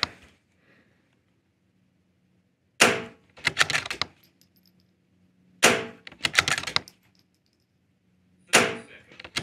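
Sharp gunshot reports from a timed shooting stage, fired with the shooter kneeling for rear support, arrive in three separated clusters of quick, loud cracks with quiet gaps between them.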